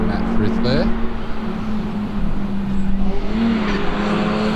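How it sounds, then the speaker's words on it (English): A Datsun 1600 race car climbs a hillclimb course, its engine holding a steady drone with rising revs, heard under continuous commentary. "Reece Molden now in the 1600 Datsun flying up the hill"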